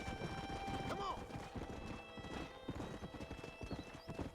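Horse hooves clip-clop at a steady walking rhythm in Red Dead Redemption, with a brief whinny, over continuous game music and ambience.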